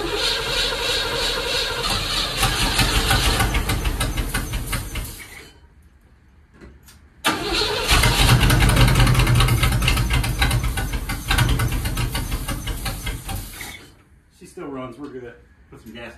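On a Caprice chassis, a car engine is started on brake cleaner. It roars loudly, cuts out into near silence, then catches again and runs hard before stuttering off.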